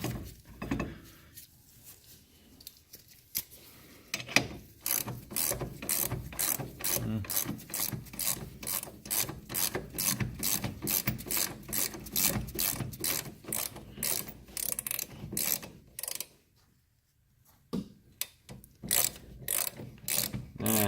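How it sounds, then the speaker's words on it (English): A ratchet tightening caliper bolts on a 2009 Ford Focus during a drum-to-disc brake conversion gives steady, rapid, closely spaced clicking strokes, with one brief pause near the end. "we're gonna tighten up those caliper bolts, torque them to spec"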